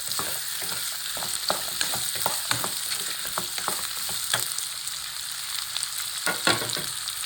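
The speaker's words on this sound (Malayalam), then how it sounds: "നന്നായിട്ടൊന്ന് ഇളക്കി കൊടുക്കാവേ എന്നിട്ട് ഈ ലോ ഫ്ലെയിമിൽ വെച്ച് കൊടുക്കാം" Food sizzling in a pan over a low flame while being stirred, with a steady close hiss broken by frequent sharp scrapes and taps of the spoon against the pan, no voices.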